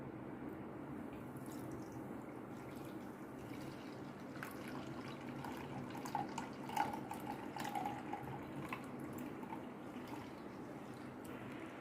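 Juice being strained through a sieve: a quiet, steady trickle and patter of liquid with faint dripping, close by and continuous over a low background hum.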